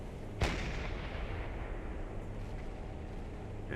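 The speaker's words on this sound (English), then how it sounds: "we're gonna give her some parting shots as we leave. Just some more target practice for our deck gun crew." A submarine deck gun fires one loud, booming shot in Silent Hunter 4, followed by a long rumbling decay over steady sea and engine noise.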